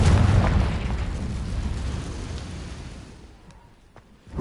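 A Confringo fire spell explodes in the Hogwarts Legacy video game: a loud, booming blast that rumbles and slowly fades over several seconds, ending with a couple of sharp pops.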